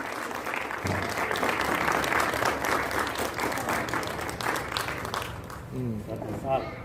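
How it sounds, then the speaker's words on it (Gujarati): Sustained applause from an audience at a government clerk's retirement and birthday ceremony, dense clapping filling the room for several seconds before thinning, with a voice speaking over the tail end. "તમારી તાળીઓ મળવી જોઈએ"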